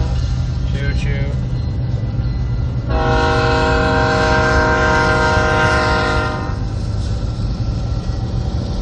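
A train horn blasts loud and steady for a few seconds over the constant rumble of a train passing nearby, heard from inside a vehicle in the aftermath of a North Dakota tornado.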